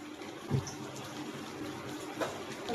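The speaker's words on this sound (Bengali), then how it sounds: "তো একটু পানি দিয়ে দিচ্ছি" Steady rushing water pours without a break, with a couple of soft knocks near the start and end.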